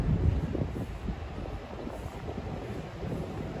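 Wind blows outdoors in New York City, buffeting the microphone with a continuous low, rumbling rush for several seconds. The noise stays steady with slight surges, and no voices are heard.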